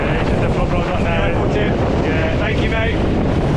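Loud, steady wind buffets the microphone aboard an E Class sailing boat racing at Weymouth, with water rushing beneath the hull throughout and faint voices partly buried in the gusts.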